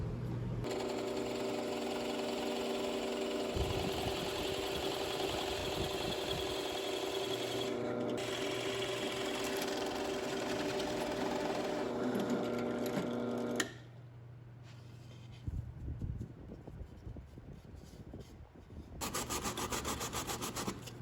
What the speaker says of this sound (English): We're going to use that to drill the entrance holes and the fronts.